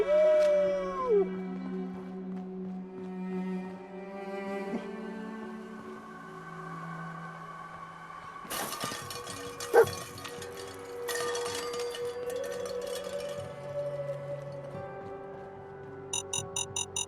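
A dog howls in the video game Fallout 4, a long wavering cry that opens the scene, followed by sustained ambient game tones and scattered sharp effects with no barking clearly evident.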